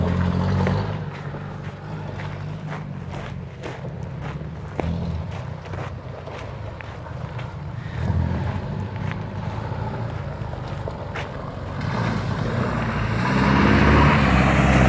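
A Toyota Bandeirante 4x4 pushes through puddles, giving a low engine rumble, splashing and rushing water, and wind buffeting on the microphone, loudest near the end.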